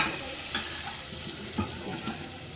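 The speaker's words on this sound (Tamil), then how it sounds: "சோம்பு செவந்திரிச்சு வெங்காயம் சேர்த்துக்குவோம் நல்லா வதங்கணும் வெங்காயம்" Onions and fennel seeds sauté in a pan for spicy chicken fry, giving a continuous close sizzle with occasional soft stirring scrapes and a short louder swell near the end.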